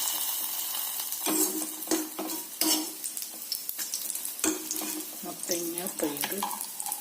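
Onions and curry leaves sizzle and fry for a pumpkin and peas erissery, broken by repeated scraping and clattering of a utensil against the pan, close by, with faint talk underneath.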